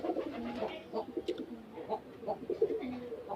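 Kept pigeons coo softly nearby, several low, rolling calls repeating and overlapping in a quiet setting.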